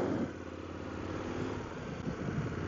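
Motorcycle engine on a ride through Brandenburg onto the Autobahn, a steady close drone with wind rush and no talking.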